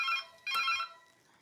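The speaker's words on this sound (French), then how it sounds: "Tiens, le téléphone sonne." A telephone rings in a home kitchen, two electronic trilling bursts at moderate distance, the second fading into a quiet room.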